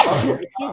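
A single loud, close sneeze bursts out, then fades into a brief breathy tail.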